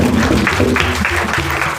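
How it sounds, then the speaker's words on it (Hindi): Dense applause from a crowd, a steady wash of clapping with a voice faintly mixed in. "जोरदार तालियां भाई"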